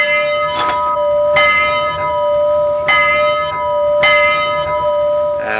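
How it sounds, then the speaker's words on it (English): A large old Portland locomotive bell clangs in slow, regular strokes, four or five rings, each leaving a long sustained ringing tone between strikes. "The bell is a regular old Portland bell here"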